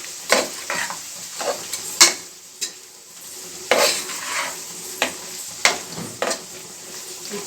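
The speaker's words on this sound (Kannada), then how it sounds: "ಅದು ಚೆನ್ನಾಗಿ ಮಿಕ್ಸ್ ಮಾಡ್ಕೋಬೇಕು" Salt being stirred into chicken biryani in a pot: repeated scraping and clinking strokes of a spoon against metal, irregular and close, over a faint underlying sizzle.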